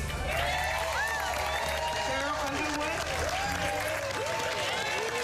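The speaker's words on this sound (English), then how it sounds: "let's give a round of applause for Walk of Famer and film star Kathy Bates" Studio audience applause at a television talk show: continuous, full clapping from a crowd, with a voice speaking over it.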